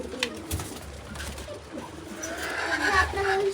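Pigeons in a loft with young chicks coo softly and repeatedly, low and close, over a busy background with a faint mechanical hum.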